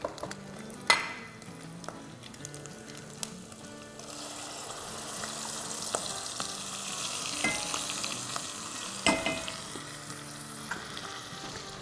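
Onions with whisked yogurt fry in a pan for besan gatte sabzi, a steady soft sizzle with a few stirring clatters and spoon knocks, growing a little busier halfway through.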